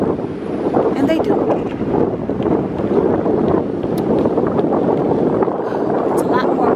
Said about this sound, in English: It's a lot more windy under here than it is out there.